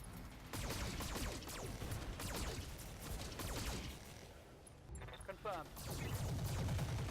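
Mech weapons fire in MechWarrior as a battle unfolds: dense, loud bursts of gunfire and energy blasts pile up continuously, with crashing impacts and mechanical whooshes layered throughout.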